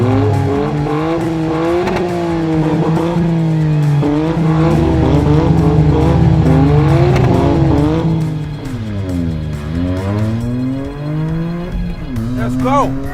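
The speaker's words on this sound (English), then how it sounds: "Okay, Corolla versus Yaris, drag race. Let's have it." Two cars, a Toyota GR Corolla and a GR Yaris, run a drag race, with loud engines roaring and climbing through repeated gear changes up close, and people talking over the noise.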